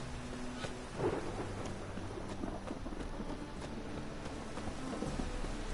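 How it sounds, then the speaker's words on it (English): Thunderstorm with steady heavy rain in The Witcher: Wild Hunt, a dense continuous hiss with a low thunder rumble swelling near the start, loud and unbroken throughout. "The storm, damn it."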